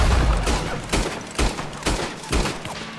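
Gunfire from dual-wielded pistols in the video game Red Dead Redemption 2: a run of sharp, loud shots, then several more spaced about half a second apart, each with a brief echoing tail over a low rumble.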